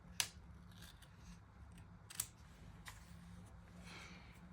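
Scissors trim excess tape in a Hobonichi planner, with two sharp, close snips and a softer third cut in a quiet room.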